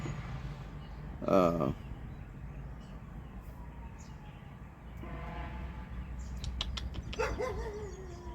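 A dog barks a couple of times, a few seconds apart, over a steady rumbling background of passing traffic or a train.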